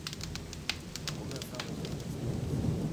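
Rain falling in the video game Odyssee, a steady soft wash of patter with a few brighter drop hits, growing slightly louder toward the end.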